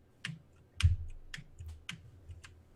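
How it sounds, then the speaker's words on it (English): Someone types on a computer keyboard, likely a mechanical one, in a quiet room: a few crisp, separate key clicks at an uneven, unhurried pace, close and alone. "Marcy, stop typing."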